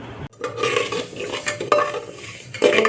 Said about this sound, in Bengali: ডালটা একটু ভেজে নিচ্ছি, মুগ ডালটা